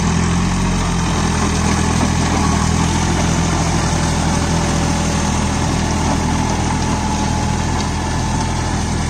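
A Swaraj Target 630 mini tractor engine runs steadily and loudly close by, with a constant low chugging drone that never lets up, alone with no voices.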